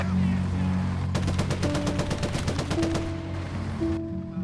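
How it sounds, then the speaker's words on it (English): World War II game gunfire in Gates of Hell, a rapid burst of machine-gun shots lasting a couple of seconds amid a steady battle hum, with distant single shots. "See the gunfire."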